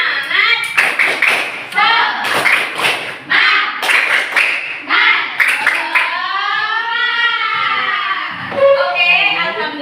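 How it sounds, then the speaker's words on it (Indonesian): Classroom of pupils doing a rhythmic clapping chant, tepuk semangat, with patterned bursts of claps and taps mixed with children chanting and a teacher's voice, close and lively. "Oke, kita tepuk dulu. Tepuk semangat."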